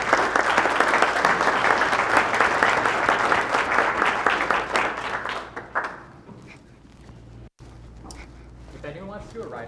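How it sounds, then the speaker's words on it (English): A conference audience at the 2023 Colorado Opioid Abatement Conference claps in a dense, sustained round of applause that fades out after about six seconds, leaving quieter room sound with a few scattered noises. "So I'd just like to give these gentlemen a round of applause."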